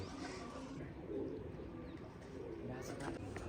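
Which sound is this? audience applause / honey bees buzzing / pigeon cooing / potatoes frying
pigeon cooing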